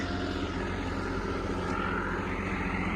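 A tractor engine drones steadily and loudly in a wheat field during sowing, a constant rumbling hum that never lets up and drowns out everything else.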